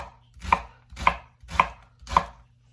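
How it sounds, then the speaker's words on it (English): A knife chops through onions on a cutting board in a home kitchen, four evenly spaced, crisp thuds with quiet gaps between them. "My onions are all cut up and now it's time to cook them"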